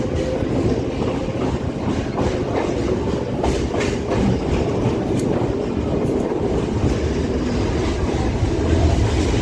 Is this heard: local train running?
yes